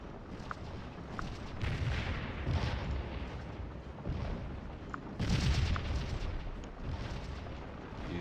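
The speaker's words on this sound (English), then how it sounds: "Fired artillery." Cannon batteries firing in the American Civil War strategy game Scourge of War, set at the Battle of Stones River: a series of distant booms and rumbling reports spread across the stretch amid battlefield noise.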